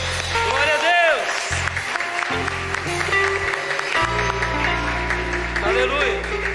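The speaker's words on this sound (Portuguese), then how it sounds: "Vamos aplaudir, é para o Senhor." A church congregation applauds during a worship service, with steady broadband clapping running under a loud voice and music, the applause continuing through most of the stretch without a clear break.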